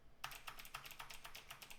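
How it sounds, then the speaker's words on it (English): Rapid clicking of keys on a computer keyboard, typed in a steady irregular run of close, crisp taps with no voices over it. "And I'm just kind of typing the instructions now."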